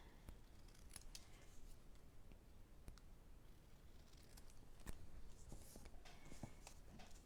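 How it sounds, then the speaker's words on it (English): Scissors snip and trim paper for a craft project, a series of sharp, close cuts and rustles scattered over a quiet indoor background with no talking. "let's trim off these white bits"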